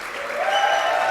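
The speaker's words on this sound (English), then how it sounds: "raucous applause is required by the audience" A burst of raucous, enthusiastic applause from an audience at an alumni awards luncheon ceremony, swelling quickly and sustained, with no talking.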